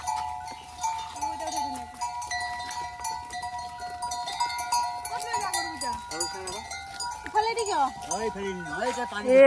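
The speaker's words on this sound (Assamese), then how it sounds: "ধুনীয়া ধুনীয়া গৰু আহি আছে" Cows approach along a rural path in Assam, cowbells clanking steadily with drawn-out lowing calls rising and falling over outdoor background noise, growing busier toward the end.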